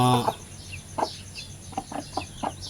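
Two sister hens sharing a nest cluck together in a series of short, soft, irregular clucks at close range, with a longer call at the start.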